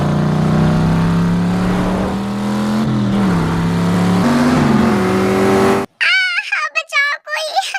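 A car races along in a chase, its engine droning and rising in pitch as it accelerates, loud and close, before cutting off abruptly into a shouted voice.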